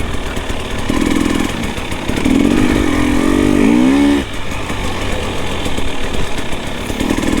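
A Husqvarna TPI two-stroke motorcycle engine runs steadily nearby, with a loud buzzing drone that rises in a brief rev midway before easing back to an even throttle.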